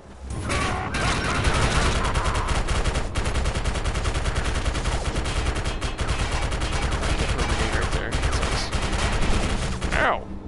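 Heavy video game gunfire in Defiance 2050, continuous rapid automatic bursts and overlapping shots filling the scene at close range, loud and sustained, with the occasional voice underneath.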